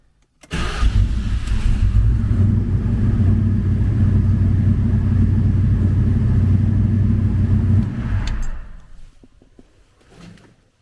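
A blown 5.0 V8 motor cranks and fires up for the first time, settling into a loud, steady rumbling idle for several seconds before cutting off, followed by faint clatter.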